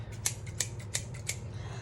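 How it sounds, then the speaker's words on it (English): Scissors snip yellow and brown peace lily leaves in four crisp, evenly spaced cuts, close and clear. "cut off the yellow leaves, cut off the brown leaves"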